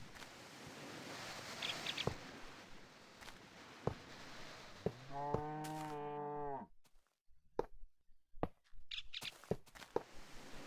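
A single drawn-out cow moo from Minecraft Tekkit, low and harmonic, rising above quiet in-game ambience, with soft footsteps and clicks before and after.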